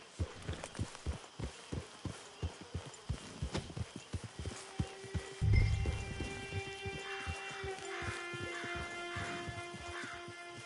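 Horse hooves in Red Dead Redemption 2 clip-clopping at a steady walking rhythm, close and clear for about five seconds, followed by a brief thud and a softer stretch with tonal in-game sounds.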